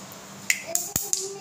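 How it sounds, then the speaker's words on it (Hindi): Mustard seeds crackle in hot oil: four or five sharp, separate pops spaced irregularly over a faint background, fairly close and crisp. "मेरा जो सरसों है वो चटकने लगा है"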